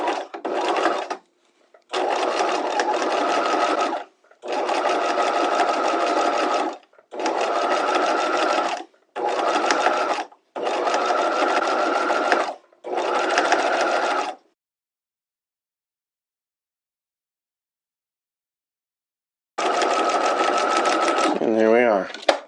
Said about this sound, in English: I'm going to stitch about a 1/16 of an inch from the top of this bias, and that will go through all layers